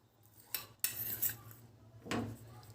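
A spoon stirs jaggery into milk in a pot, making a few faint metallic clinks and scrapes against the vessel, quiet and sparse over a soft background.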